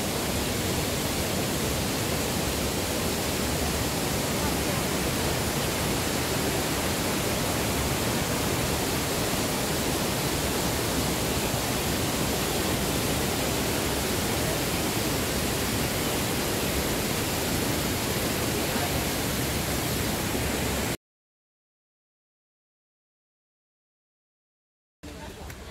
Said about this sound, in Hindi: डेविस वाटरफॉल का छोटा सा वीडियो होगा